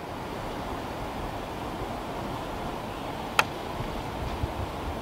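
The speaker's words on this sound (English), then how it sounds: "we've got a nice wind blowing right now, and so it's a good test of the wind muff" Wind gusts against a shotgun microphone fitted with a black furry wind muff outdoors, a steady soft rumbling wash with one brief sharp click partway through, no talk.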